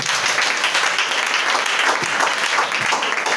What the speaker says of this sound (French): Est-ce que quelqu'un peut acclamer Jésus?